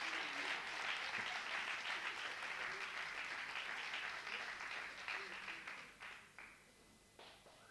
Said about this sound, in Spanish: Puede dar el aplauso al Señor.